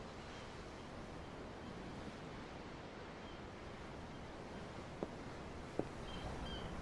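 Ocean waves in Tales of Arise, heard from aboard a ship, make a soft, continuous surf wash with no break and a couple of faint knocks partway through.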